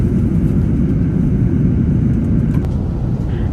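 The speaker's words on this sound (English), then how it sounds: "After takeoff, our plane then turned southeast towards Australia." Singapore Airlines Airbus A380 climbing out after takeoff, heard from inside the cabin as a loud, steady low roar of engines and airflow with no pauses or voices.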